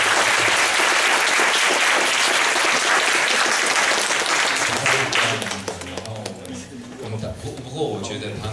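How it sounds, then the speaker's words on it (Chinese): A crowd at a panel event gives a warm round of applause for four guests, loud and dense at first, then thinning into scattered claps as a voice begins speaking. "请大家再给他们四位一个热烈掌声"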